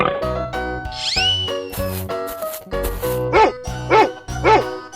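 A dog barks in a 3D animal slide game, several short yaps in a quick rhythm toward the end over bouncy game music.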